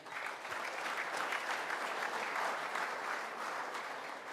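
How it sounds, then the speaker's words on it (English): Steady, dense applause from a crowd at a college basketball awards event, sustained at an even level throughout with no talking over it. "How about a round of applause for him?"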